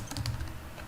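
Computer keyboard keys tapped in a short, fast burst while writing Node.js code, several soft clicks close to the microphone with no voices.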